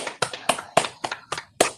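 Attendees at a library board of trustees meeting clap briefly, a handful of sharp, distinct hand claps in an uneven rhythm, close and fairly loud, with no talking over them.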